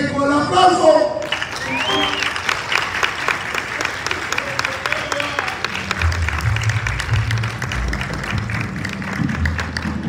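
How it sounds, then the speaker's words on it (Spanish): An audience at a Dominican Republic salsa congress breaks into loud, sustained applause, dense clapping filling the room right after a voice stops, with some musical tones lingering underneath. "¡El aplauso!"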